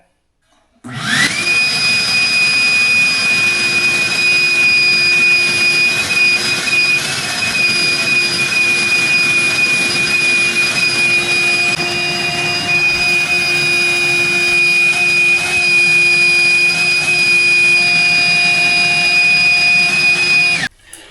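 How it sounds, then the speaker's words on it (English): A vacuum cleaner runs over a freshly sanded pine floor, starting abruptly and holding a loud, steady whining roar with a high pitched tone for about twenty seconds, then cutting off. "So after sanding it, I go back and vacuum again."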